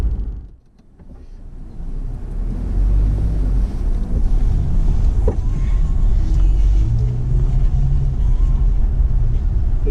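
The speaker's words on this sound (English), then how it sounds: "we'll go for a little drive through New Westminster again" Steady car engine and road rumble through New Westminster, continuous and fairly loud with wind buffeting the microphone, after a brief dip near the start.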